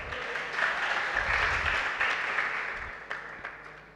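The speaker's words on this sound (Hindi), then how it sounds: "जब गाथा बोलने पर इतनी सुंदर तुम्हारी तालियां बज रही हैं" Applause from a seated audience after a verse is recited at a religious discourse, a moderate wash of clapping that swells and then gradually thins out, with a few scattered claps near the end.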